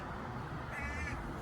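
A bird, crow-like, calls from high in a tree outdoors, a short faint caw-like cry against a steady low background hum.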